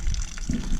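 Water gushes and trickles steadily out of a drilled hole in a leaky car headlight, a close, continuous splashing flow with no voices.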